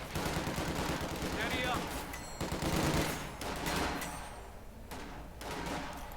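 MG42 machine guns firing in the Company of Heroes 2 battle, with rapid bursts layered over continuous combat noise and rumbling, at moderate loudness throughout.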